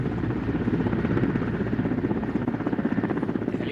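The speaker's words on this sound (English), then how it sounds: "The helicopter comes to hover over the roof" An Indian Air Force helicopter hovers over a high-rise building roof during the Vayu Shakti 2019 exercise, its rotor throbbing loud and close in a rapid, steady pulse with a low engine drone beneath.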